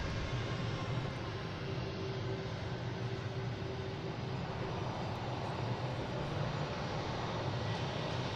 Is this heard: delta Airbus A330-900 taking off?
yes